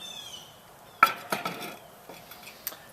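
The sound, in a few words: pizza stone being set on top of a skillet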